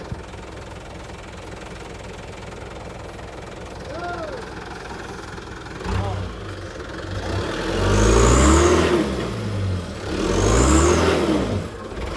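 A heavy truck loaded with timber revs its engine hard while stuck in thick mud on a rough road in southern Cianjur, rising in repeated surging bursts from a low idle. Voices talk in the background.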